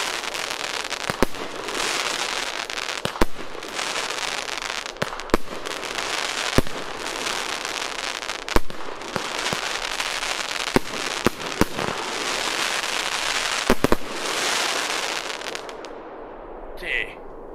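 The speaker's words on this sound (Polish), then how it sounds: "Piękna, trzeszcząca kometa, trzeszcząca palma i efekt Ghosta." Crackling comet and crackling palm fireworks with a Ghost effect pop in sharp repeated reports over a continuous dense crackle, loud and sustained throughout, fading out at the end.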